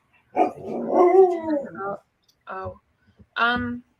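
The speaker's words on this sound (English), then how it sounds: "My dog's got something to say, apparently." A dog barks and whimpers in a few short vocal bursts, close and fairly loud, with pauses between them.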